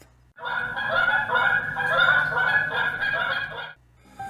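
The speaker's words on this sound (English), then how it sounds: "flocks of geese as they made their way south." A flock of geese honks in a dense, continuous chorus for several seconds, fairly close and clear, serving as an audio drama sound effect with no talk over it.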